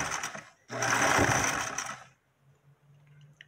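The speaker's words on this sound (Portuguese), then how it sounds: "Bem rente ao paninho, nós vamos estar costurando" A sewing machine stitches close along a small piece of fabric in one loud, fast whirring burst of about a second, then stops, leaving a faint hum and quiet handling.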